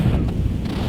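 Strong blizzard wind at negative 15 degrees, gusting around 35 miles an hour, roars and buffets the microphone in a loud, close, rumbling burst with no talk.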